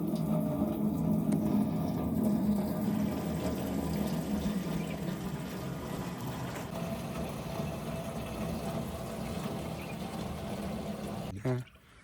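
Water is poured into a drum for homemade raw liquor, a steady low pouring and sloshing that runs continuously for about eleven seconds before stopping abruptly.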